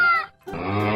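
A rooster crows in one loud, close call that breaks briefly, then resumes as a long, drawn-out harmonic cry.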